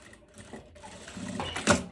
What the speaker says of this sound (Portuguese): eu venho e costuro aqui